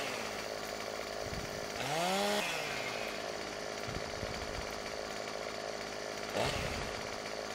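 A chainsaw in the Farming Simulator 2017 video game cuts down trees, its engine revving up in a rising whine and dropping back, with a second short burst later amid steady game background noise.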